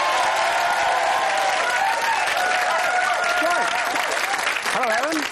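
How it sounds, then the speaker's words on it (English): A game-show studio audience cheers and applauds a newly introduced contestant, with dense, sustained clapping mixed with whoops, and a host's voice starting up near the end. "a cheer and a clap, please, for Helen Fitzsimmons."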